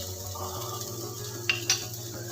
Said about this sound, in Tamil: இதையும் நல்லா மிக்ஸ் பண்ணிக்கலாம்.